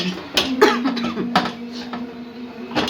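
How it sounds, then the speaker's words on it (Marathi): A person coughs repeatedly from spicy curry cooking fumes in short, sharp bursts at close range, with some throat clearing between coughs over a steady low hum. "भाजीचा ठसका उठलाय ना तर त्याच्यामुळे मला जरा खोकलायला लागला"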